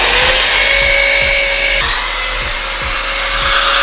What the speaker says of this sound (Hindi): हम 2 फास्टनर की लोकेशन मार्क कर लेते हैं और ड्रिल करके 2 फास्टनर लगा देते हैं